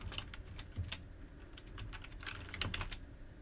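Someone types a file name on a computer keyboard at close range, a quiet run of light, uneven key clicks with no voices.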